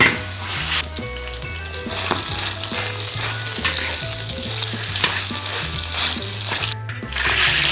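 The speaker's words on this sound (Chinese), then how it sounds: "鹅油煎一下。" Goose fat sizzles and spits in an iron wok in a rural kitchen, a loud continuous fry with brief stirring scrapes and a short pause near the end.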